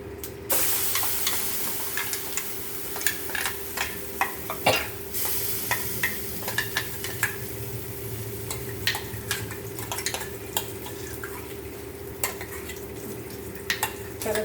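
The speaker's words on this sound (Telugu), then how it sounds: "ఇవన్నీ వేగిపోయినాయి, పోపు చేద్దాం." Spices and red chillies crackle and sizzle in hot oil as a tempering for a tomato, sesame and green chilli chutney, with sharp pops and spatters over a constant low hiss and no talking.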